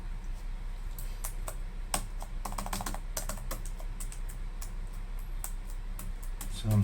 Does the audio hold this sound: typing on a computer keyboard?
yes